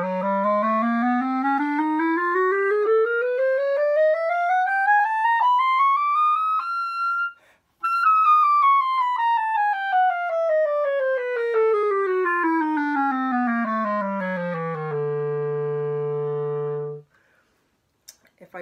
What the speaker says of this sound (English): So I'm going to play that for you right now. So this uses all the keys on the clarinet.